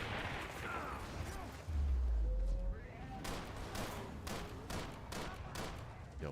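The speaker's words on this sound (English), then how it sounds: "Yo, why is this gun sucking ass?" Gunfire from a gun in a video game shooter: a heavy low boom, then a string of sharp, evenly spaced shots cracking over a constant busy game backdrop.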